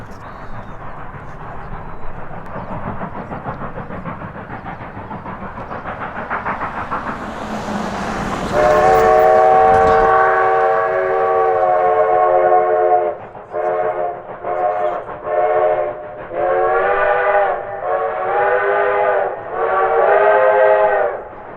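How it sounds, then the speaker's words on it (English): Cumbres and Toltec Scenic Railroad steam locomotive climbing Cumbres Pass, chuffing steadily before a loud, harmonic whistle sounds in one long blast and then a series of shorter repeated blasts. "we were lucky enough to come across the Cumbres and Toltec Scenic Railroad as it made its way up Cumbres Pass"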